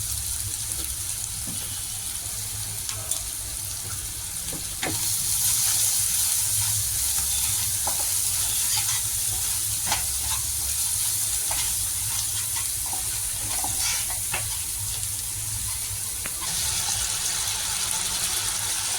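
Steady sizzling and spitting of spice masala frying in a pan for bhetki fish kaliya, a constant crackling hiss that swells a little partway through, with no talk.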